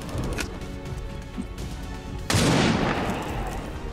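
Gunfire in XCOM 2: War of the Chosen: a sudden loud blast about midway erupts over a busy game background, then trails off into a rumbling, crackling decay.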